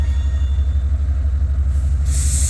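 A freight train rolls through Bailey Yard in North Platte as its brakes are applied, giving a steady low rumble with a pulsing beat and a bright hiss of air or brake noise near the end.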